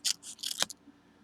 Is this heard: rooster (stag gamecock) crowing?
no